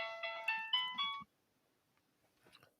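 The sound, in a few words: phone ringtone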